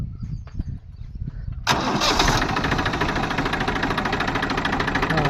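A tractor engine cranks and catches, with a few quiet rough sounds at first, then a sudden loud start that settles into a steady, close, chugging idle.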